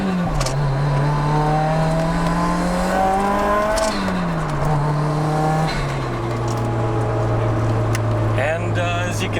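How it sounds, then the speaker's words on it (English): A Nissan SR20 engine in a 180SX Sileighty revs hard through the gears, the tone climbing and dropping with each shift, loud and close from inside the car, with a voice talking over it. "as you can tell with that SR20, this thing actually really does rip through the RPMs"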